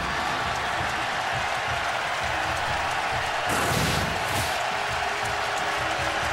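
A college football crowd in the stadium at Columbia, South Carolina, fills the air with a dense, continuous roar of applause and cheering that swells briefly midway, loud and wide.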